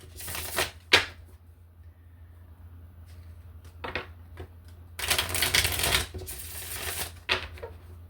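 Tarot cards shuffle in bursts of crisp riffling, with separate sharp snaps as single cards are laid down between them. Close and clear, with no talking.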